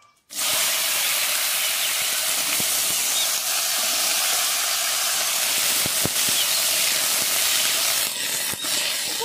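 Whole grapes fry lightly in a pan for chutney, a loud, continuous hissing sizzle that starts abruptly and holds steady throughout, with a few faint clicks and no clear speech.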